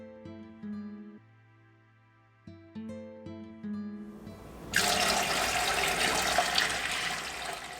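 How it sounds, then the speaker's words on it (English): Tap water pours into a pressure canner, a steady close rushing splash following a few seconds of music. "The first step is to fill your canner with 2 to 3 inches of water."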